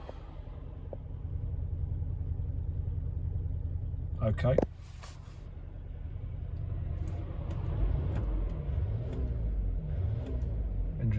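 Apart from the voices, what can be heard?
Land Rover Range Rover engine running and driving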